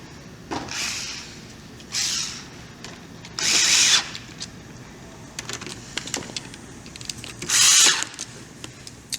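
Power tool driving a screw into a retro gaming bartop arcade kit, several short buzzing runs separated by pauses, close and fairly loud with no voices.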